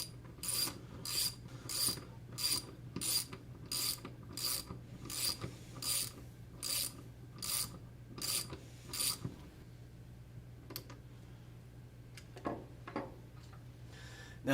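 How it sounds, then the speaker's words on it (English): A socket wrench ratchets as a nut is torqued onto a new lifter shaft, with about a dozen quick, evenly spaced clicking bursts, then a quieter stretch with a few scattered taps and rubs, close by and alone. "you can then finish torquing the nut with your socket wrench"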